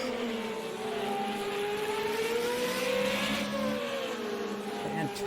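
An FR35 race car at the Long Beach street circuit screams past with a high engine note that climbs and then drops as it goes by, sustained and fairly loud, with faint commentary underneath.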